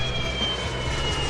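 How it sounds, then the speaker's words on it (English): An airplane's engine drones in a loud, steady roar with a faint high whine running through it. "Airplane."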